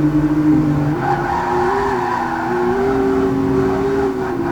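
Nissan 350Z race cars from a racing video game roar past in a loud, continuous engine drone, pitch rising and shifting as they accelerate through gears, with faint tire squeal and no talking.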